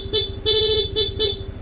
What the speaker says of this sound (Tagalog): sa stock horn, long press lang po yung horn button.